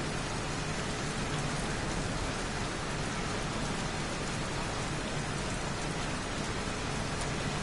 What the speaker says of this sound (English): Jeez, won't this rain ever let up?